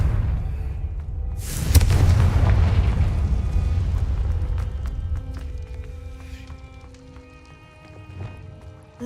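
A Confringo fire spell explodes in the video game Hogwarts Legacy: a sharp loud blast followed by a long rumbling roar that slowly fades over several seconds while ambient game music and effects continue.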